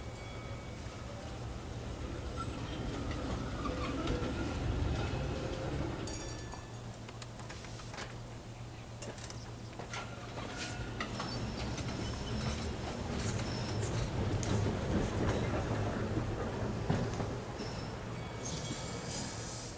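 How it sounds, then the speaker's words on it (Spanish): Ambient rumble and rattling of a tram ride in the video game Syberia: The World Before, with a steady low hum, faint metallic clinks and clatter running continuously throughout, no speech. "podíamos quedarnos ahí para disfrutar un poco del paseo en tranvía"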